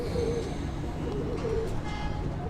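Soft pigeon cooing in short repeated phrases, fairly close, over a steady low background murmur.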